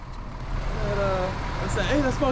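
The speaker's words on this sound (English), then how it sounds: "The truck's so loud, I can't hardly hear anything." A truck engine running loudly nearby in a parking area produces a constant deep rumble throughout, with voices talking over the drone.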